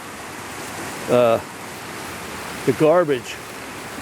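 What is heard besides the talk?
flash flood water rushing down a creek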